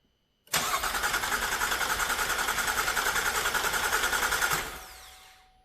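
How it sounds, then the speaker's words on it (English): A 2012 GMC Acadia SLT with a 3.6 LLT engine cranks over without firing: a close, loud, steady starter whir with a fast rhythmic pulse that lasts about four seconds before it winds down. "We'll do about 3 or 4 cranks to get some oil loaded up into the engine."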